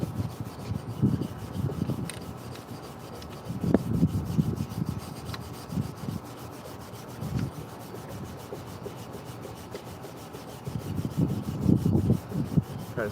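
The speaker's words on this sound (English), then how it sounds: "I'm going to try to get some of that rust out of the pits." A hatchet blade is scrubbed with a little boiled linseed oil to lift rust from its pits. Soft, gritty rubbing comes in several bursts separated by quieter stretches, close up and with no voices.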